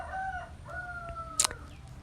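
A rooster crows once in a drawn-out, wavering call at moderate distance, followed by a sharp click, over a low background hum with no talking.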